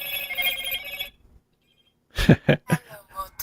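A telephone rings with an incoming call during a livestream, sounding as a quick series of close, loud ring bursts after a brief silence.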